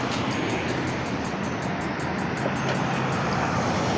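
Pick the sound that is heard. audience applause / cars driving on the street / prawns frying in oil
cars driving on the street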